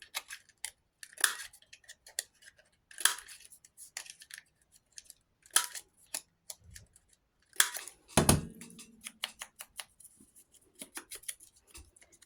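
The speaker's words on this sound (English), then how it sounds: "I'm just thinking that if I was to clip these corners" Scissors clip the corners of paper in a quiet room, a series of crisp close snips and clicks in irregular bursts, with short pauses and a few light handling taps between cuts.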